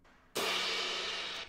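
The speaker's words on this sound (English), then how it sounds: "A cymbal hit" Cymbal crash in a music track, a sudden bright hissing wash that sustains evenly for about a second, heard alone and fairly quiet.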